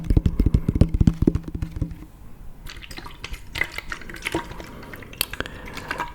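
Hard tapping on a water bottle: a rapid burst of resonant knocks, then scattered lighter clicks and taps, close and fairly loud.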